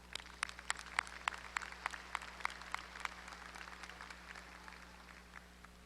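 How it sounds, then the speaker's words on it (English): Audience at a university spring commencement ceremony applauding student ambassadors: soft, distant clapping with a few sharper claps early, thinning and fading toward the end over a steady low hum. "Let's give them a round of applause as well."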